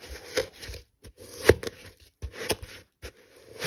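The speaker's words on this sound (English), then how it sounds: "And then I'm just going to mix it in with the butter." A spoon or spatula works sugar into soft butter in a bowl, giving short scraping and tapping strokes in irregular bursts with brief pauses between them, fairly close and with no talk.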